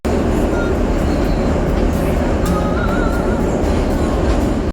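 A new metro train in Kharkiv rolls loudly and steadily, with constant rumbling wheels and occasional faint squeals throughout, close and continuous until it cuts off at the end.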